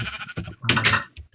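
Minecraft sheep bleat twice in quick succession, a shaky nasal call followed by a longer wavering one, with a brief thud after.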